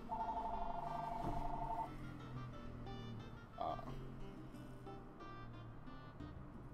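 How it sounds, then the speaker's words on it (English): Indoors, a telephone gives a brief electronic trill lasting under two seconds, soft and somewhat distant, followed by quiet room noise and a small knock. "There's a phone ringing in here?"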